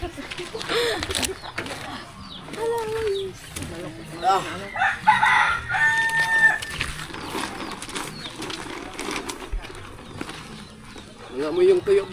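A fighting rooster crows a few times amid other bird sounds, heard under nearby conversation.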